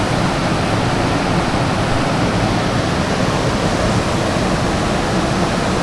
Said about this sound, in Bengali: মানে এত জল কোথা থেকে যে আসছে, আর চারিদিক থেকে।